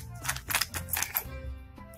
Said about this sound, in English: These scissors are really bad.